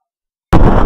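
A single shotgun blast from a 20 inch barrel with half choke bursts suddenly out of silence, loud and close, with a short rumbling tail.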